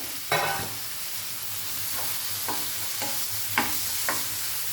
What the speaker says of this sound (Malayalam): എന്നിട്ട് നമ്മുടെ ഈ തക്കാളി, ഗ്രേറ്റ് ചെയ്ത തക്കാളി ഇട്ട് കൊടുക്കാം. മീഡിയം ഫ്ലെയിമിലാണ് ഇരിക്കുന്നത്.